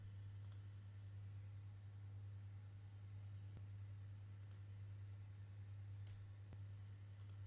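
Sharp mouse clicks on a computer, a few isolated taps spaced several seconds apart, sitting over a steady low electrical hum with no talking.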